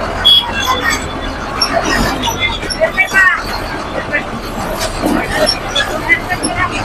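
A crowded MSRTC bus pulls out of Kannad, its engine and road rumble running under loud chatter from the packed passengers.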